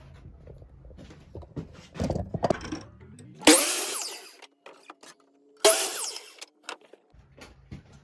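A power saw cuts wooden pallet studs in two short, loud whining bursts, with knocks, handling clatter and scraping of the wood between and around the cuts.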